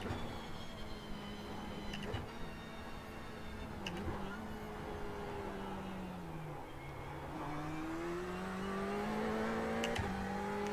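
A race car engine in a sim racing game at Bathurst revs and shifts through the gears, the tone climbing and dropping with a short lift, then building again under a steady background rumble.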